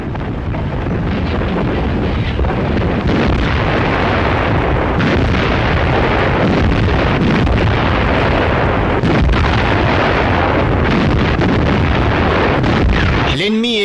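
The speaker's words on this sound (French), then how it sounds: "Avec leurs innombrables tubes, nos batteries ripostent aux tirs soviétiques." Artillery batteries fire during the WWII battle of Orel, a loud, continuous roar of booms and blasts that keeps up without a break, with a narrating voice over it.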